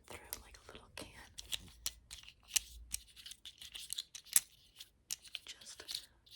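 Scissors snip in crisp, close bursts during an ASMR plastic surgery roleplay, scattered irregularly between soft whispering.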